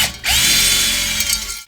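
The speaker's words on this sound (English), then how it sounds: "I want to drill through the holes in the plates through the brackets" A power drill bores through metal plates and brackets for a custom dash on a DR650 motorcycle, a close, loud, high whine that starts abruptly, holds steady for over a second, then cuts off.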